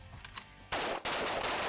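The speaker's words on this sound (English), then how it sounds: "Everybody must start shooting." Soldiers fire weapons during training drills in a rapid, dense burst of gunfire, loud and close, starting after a brief quieter lead-in and continuing with only a short gap.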